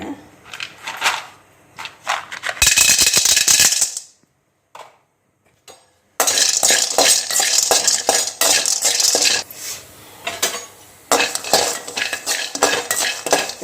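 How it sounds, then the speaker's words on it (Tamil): Asafoetida fries in a pan with loud bursts of sizzling and metal spoon clatter, broken by a few seconds of near silence before the stirring and scraping resume. "இப்போ பெருங்காயத்தை வறுத்துக்கலாங்க"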